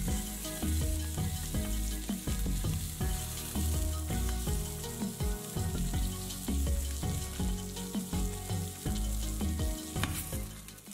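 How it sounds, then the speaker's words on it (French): Salmon fillet frying in a pan and being flipped after cooking skin side down, producing a continuous close sizzle with rhythmic scraping and clattering of the utensil, with no one speaking. "Je retourne mon saumon."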